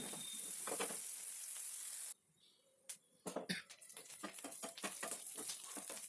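Onions frying in oil toward golden brown for sorakaya kofta curry: a loud, steady sizzle suddenly drops away, then returns as softer crackling with scattered utensil taps and spattering pops.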